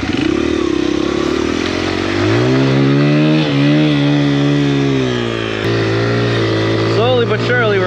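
Honda XR100R dirt bike ridden through snow, its engine droning loud and close throughout with rising and falling revs and a short blip near the end.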